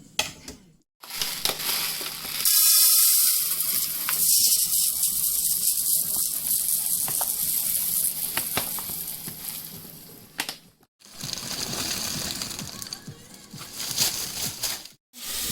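Golden-brown onions frying in a pot before rice goes in, a steady close sizzle with crackling bursts and a few brief pauses, no talking.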